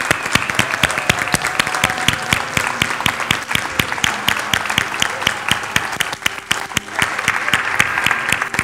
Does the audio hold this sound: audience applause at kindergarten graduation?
yes